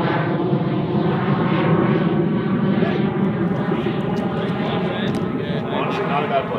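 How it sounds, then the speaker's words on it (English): A propeller airplane drones overhead above a golf course at the Open, a steady loud engine hum that fills the whole stretch while someone talks under it. "There's a plane coming, so you probably can't hear me."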